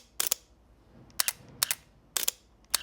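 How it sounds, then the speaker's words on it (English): A Sony A7R5 camera shutter fires four times in short, sharp, close clicks, each a quick double snap, with quiet gaps between them and no talk. "Every Sony camera actually has a slightly different shutter sound if you didn't know."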